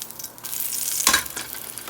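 Fry bread crackles and sizzles in a pan, a soft, close frying hiss under two seconds long that brightens into a brief louder burst partway through.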